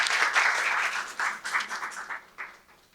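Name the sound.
applause welcoming speaker at seminar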